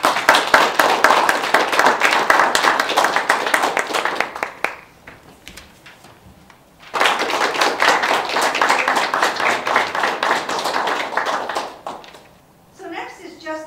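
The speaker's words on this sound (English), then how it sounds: "I want to lead everyone in a round of applause for you" An audience claps for a drug treatment court graduate, with two long bursts of dense, even clapping split by a quieter gap, and faint voices at the end.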